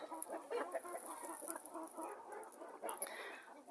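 A New Hampshire hen clucks softly and repeatedly close by, with a few sharper chirps from other chickens around it and a faint high background tone.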